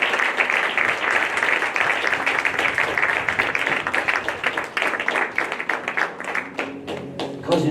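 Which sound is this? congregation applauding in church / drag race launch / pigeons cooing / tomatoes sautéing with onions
congregation applauding in church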